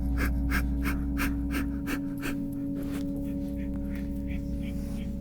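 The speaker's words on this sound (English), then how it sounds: "begin a shallow breath of fire" Rapid, shallow breath-of-fire panting during a Kundalini yoga abdominal exercise, quick rhythmic puffs of breath close up over a steady background hum, tapering off midway.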